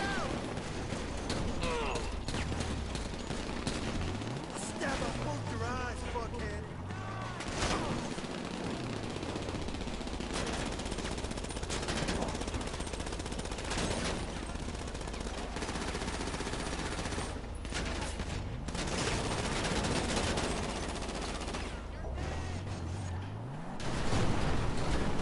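Dense video-game gunfire in GTA 5, rapid machine-gun bursts and overlapping shots running almost without pause, loud and continuous with game music and effects underneath.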